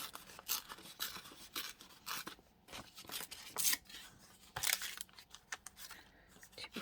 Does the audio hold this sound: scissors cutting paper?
yes